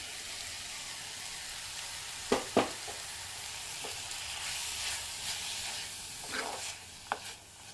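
Ground paste tipped into a drumstick-leaf curry sizzles softly under steady broadband hiss, with a few sharp spoon-against-pan clacks and stirring scrapes scattered through.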